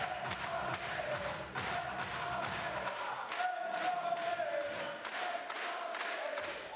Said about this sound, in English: Crowd rallying.